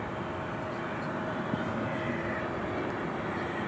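A Boeing Dreamliner jet airliner at night at DFW airport, all lit up and heading toward a hangar on the west side, produces a faint, steady distant jet hum lasting a few seconds.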